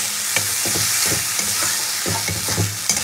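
Spice paste sautéed in a pan, hissing with a loud, steady sizzle while a spoon scrapes and stirs it in repeated short strokes close by.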